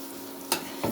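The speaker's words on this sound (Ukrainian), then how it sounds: "розмішуючи, щоб не було комочків" A spoon stirs thick semolina dough for fishing bait in a pot, giving two quick scraping swishes over a low steady hum.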